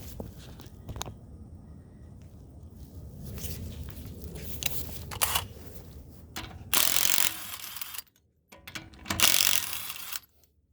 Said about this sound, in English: we'll go ahead and get started and get this front wheel off